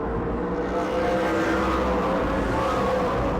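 Race car number 10 speeding around the track at a New Smyrna racing event, a loud, steady engine roar with rising pitch as it runs close by, with no talk over it.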